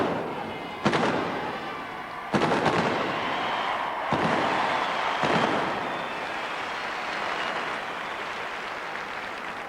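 Three loud booming reports from a Portsmouth field gun crew's gun, spaced about 1.5 seconds apart, each a sharp broadband blast decaying into crowd noise and reverberant rumble at an arena display.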